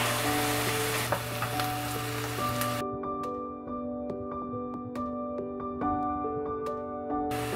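Ginger and garlic paste frying in a pan for a mutton curry, giving a loud, steady close-up sizzle with a faint tonal hum underneath and occasional light clicks of stirring.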